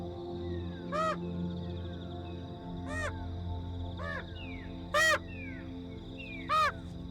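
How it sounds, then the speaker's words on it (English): A flock of birds calls over an African plain, loud harsh crow-like caws rising in bursts about every second or two, some close and strong, others fainter, over a steady low rumble of open-country ambience. "A cloud of birds swells, ranks and shifts endlessly over the plain."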